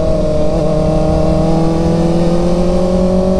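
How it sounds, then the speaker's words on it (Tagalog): Kawasaki ZX4RR and ZX6R sport motorcycles on a group breakfast ride roar steadily at high revs, with a loud sustained engine drone and rising harmonic whine, close by and continuous throughout. "Powerful ang mga motor na kasama natin."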